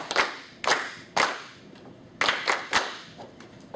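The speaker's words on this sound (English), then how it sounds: "Now clap the rhythm." Bare hands clap out an uneven rhythm, seven or so sharp, close claps with short and long gaps between them, heard alone in a quiet room.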